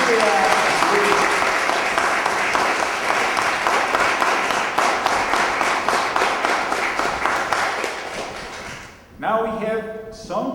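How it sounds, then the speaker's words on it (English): Audience applause closing a panel talk, dense sustained clapping from a crowd that runs loud for about nine seconds, then tapers off into a few scattered claps and room noise. "Let's give a huge applause to Myriam and Ruth"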